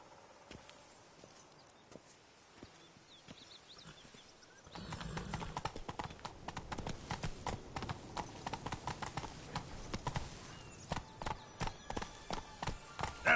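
Roach, the horse in The Witcher game, trots with steady clip-clop hoofbeats that start after a quiet opening and continue in an even rhythm, close and clear, with a brief whinny-like touch and no talk.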